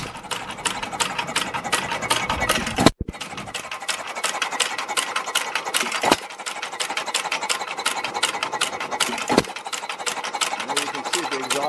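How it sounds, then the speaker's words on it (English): A 1914 Novo hit-and-miss engine runs with rapid, even mechanical clatter, broken by a few sharp louder bangs at irregular intervals, heard up close. "That's a hit and miss engine."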